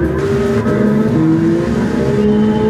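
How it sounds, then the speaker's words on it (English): A Hyundai Genesis fitted with an Alfa Romeo engine swap racing in Gran Turismo 7, its engine droning loudly and steadily at high revs with small pitch shifts as gears change. "I can't wait to see how this car sounds and runs."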